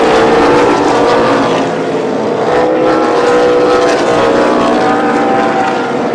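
Race cars roar down the front straightaway of an oval track at Columbus after coming off turn 4, a loud, continuous, dense engine drone that fills the whole clip without letting up.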